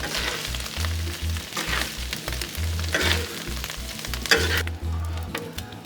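A chorizo and hamburger meat mixture sizzles loudly on a Blackstone griddle while a spatula scrapes and scoops it up in quick repeated strokes, close and without talk.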